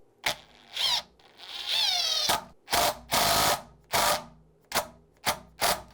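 A power driver drives short screws into a Defiant deadbolt latch in a door, giving loud close bursts of whirring, one rising in pitch, then a quick run of short separate buzzes.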